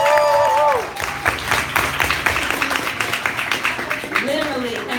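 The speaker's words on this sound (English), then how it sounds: "Just one big hand of applause." A crowd applauds at an artists showcase in Seoul, brisk clapping starting after a brief voice and continuing steadily at close range, with a few whoops over it.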